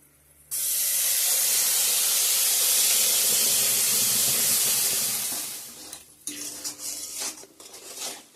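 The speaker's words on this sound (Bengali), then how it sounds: "পেস্ট করা মশলাটা দিয়ে দিছি বেশি ভাজবো না এটা দিয়ে" Spice paste hits hot oil in a pan for a Bengali pointed gourd dish, letting out a loud, sustained hiss of sizzling that fades after several seconds, followed by softer stirring clatter.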